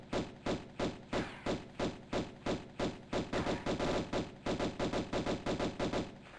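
Steady bursts of gunfire in Tomb Raider Remastered, set in Greece, a regular rhythm of punchy thudding shots repeating about three times per second, close and consistent, with no talk over them.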